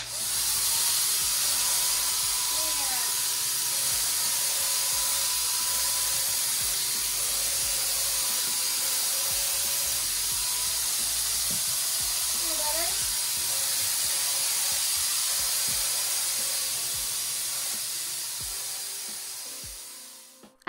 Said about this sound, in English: I have a love-hate relationship with this paint sprayer.